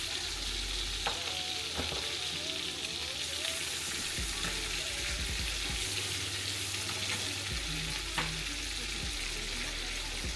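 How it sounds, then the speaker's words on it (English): Chicken sizzles and crackles steadily in a hot pan while cooking Mexican food, with occasional clinks and stirring noises and no talking. "So now we're just gonna start putting our chicken in there."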